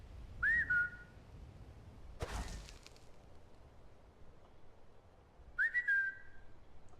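Two short, clear whistles spaced several seconds apart, each a quick upward sweep settling into a steady tone, calling a companion in Skyrim, with a soft thud between them over quiet ambience.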